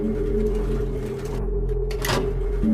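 An old hospital lift runs with a continuous droning mechanical hum and metallic grinding tones, steady and fairly loud, with a brief scraping swell near the end.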